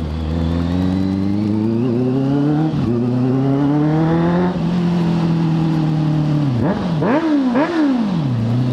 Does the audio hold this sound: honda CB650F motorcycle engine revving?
yes